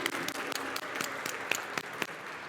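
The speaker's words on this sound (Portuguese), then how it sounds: "Palmas para ele!" An audience at an international diversity conference applauds as a Ministry of Tourism speaker is called to the stage, a moderate steady patter of clapping with a few sharper claps standing out nearby.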